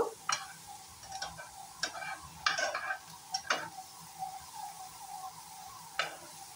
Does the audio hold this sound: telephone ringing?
no